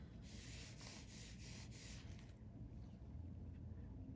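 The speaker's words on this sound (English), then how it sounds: "You'll rub it in and then you'll wipe." A trading card being rubbed and wiped with water during cleaning for grading, giving a steady close scrubbing friction that runs rhythmically, then eases into a softer, duller rub.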